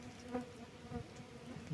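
Stingless bees buzz in a faint, continuous drone as honey is harvested from a hive, the hum steady and close with no voices.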